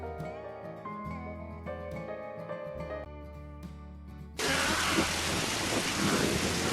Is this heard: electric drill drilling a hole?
no